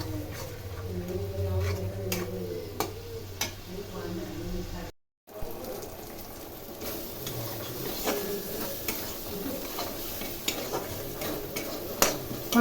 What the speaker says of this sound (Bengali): এখন খুব ভালো করে কষিয়ে নেব।